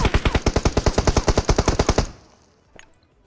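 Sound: gunfire in PUBG Mobile video game

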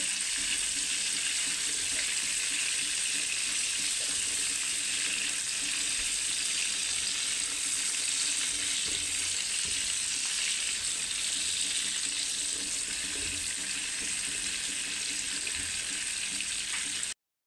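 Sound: prawns frying in mustard oil after flipping

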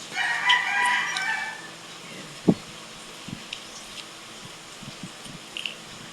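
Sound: rooster crowing

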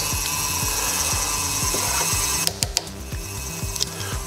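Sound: trimming rough edge of a clay cup

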